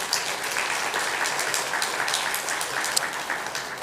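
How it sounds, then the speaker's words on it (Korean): A Methodist church congregation at Sunday morning worship claps in celebration, a moderately loud, even patter of hands with a few sharper individual claps standing out. "축하하는 마음으로 박수하시기 바랍니다"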